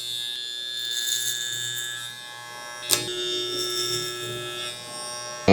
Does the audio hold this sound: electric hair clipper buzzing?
yes